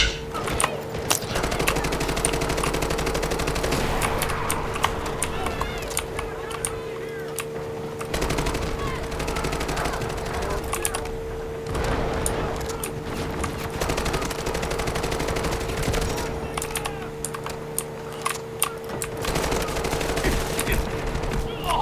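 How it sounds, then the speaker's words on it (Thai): A tank firing on the player in the shooter game Delta Force, heavy gunfire with rapid bursts and loud blasts in a near-continuous barrage, with a steady engine hum underneath and occasional voices. "รถถังยิงกู"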